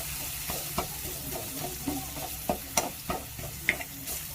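Carrot and potato pieces fry in oil with a continuous sizzle, broken by frequent knocks and scrapes of a spatula being stirred against the pan.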